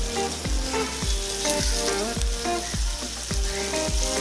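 Fish fries in a pan with crushed shallots, giving a constant loud sizzle and crackle. Steady, repeated scraping strokes of stirring run through it, and no one talks.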